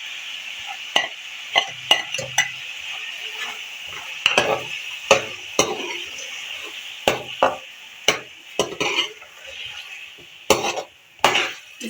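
Two tablespoons of garlic ginger paste frying in oil in a pot while a spoon stirs and scrapes it, giving a steady close sizzle broken by repeated metallic clanks and scrapes, with no talk.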